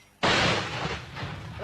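An artillery gun fires once, a loud, close blast that cuts in abruptly and rolls off into a long rumbling decay.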